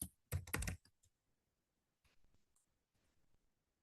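Keystrokes on a computer keyboard while a password is typed in for an online job application, a quick loud burst of clicks at the start, then sparse, faint taps.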